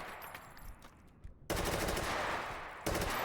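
Sustained automatic 7.62x39mm machine gun fire from a competitive video game match, with bursts breaking out loudly partway through and again near the end after quieter distant shots.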